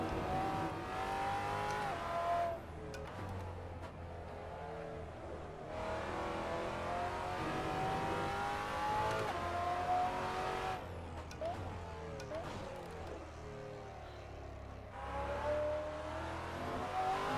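A race car in the Assetto Corsa driving game revs hard through repeated upshifts, its raw engine note climbing and dropping in pitch with shift gaps, with brief tire squeals, all moderately quiet and without talk.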